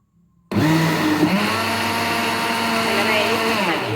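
A kitchen blender grinding lentils whirs up suddenly after a brief quiet moment, then holds a loud, steady motor roar with grinding texture to the end.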